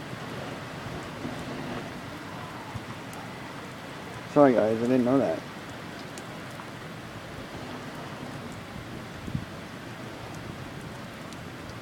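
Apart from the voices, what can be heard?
rain falling during a sun shower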